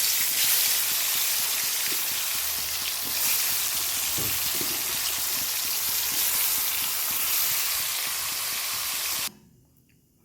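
Potatoes fry in hot oil with a dense, loud, continuous sizzle that cuts off abruptly near the end.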